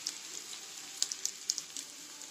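Jowar papdi roasting in a pan gives a faint, steady dry sizzle with scattered small crackles and pops, heard close and alone.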